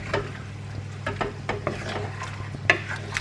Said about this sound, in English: And just give it a little stir.